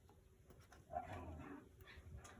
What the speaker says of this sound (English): Your dogs sound feisty.